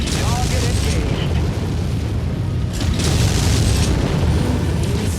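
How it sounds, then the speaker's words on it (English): Incoming missiles slam home in a MechWarrior battle, a loud sustained roar of booming explosions with two heavier bursts, close and continuous over low rumble and faint game voices. "Incoming missile."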